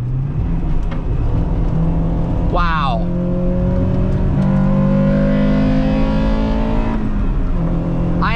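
A front-wheel-drive Acura Integra Type R engine pulls hard under acceleration, heard loud from inside the cabin as the pitch climbs through the gears, with a brief shift and a voice exclaiming over it.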